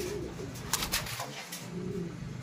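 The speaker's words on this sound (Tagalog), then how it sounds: "Maarte yung ibon ayaw bumaba" A perched bird coos softly in a few low, rounded notes, fairly close, over a quiet outdoor background.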